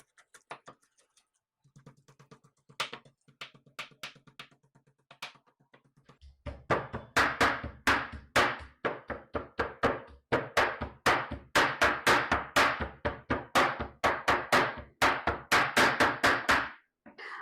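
A knife chops prawns with other ingredients into a fine mince: a few light scattered taps at first, then a steady run of quick, close, rhythmic thuds on a cutting board for about ten seconds before it stops.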